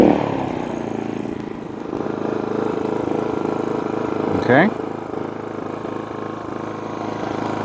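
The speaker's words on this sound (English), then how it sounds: "Okay guys, the generator is gassed up, got oil in it. Let's fire it up." A GENMAX GM3500Xi open-frame inverter generator runs at a steady, loud, even drone throughout, with a short voice briefly over it.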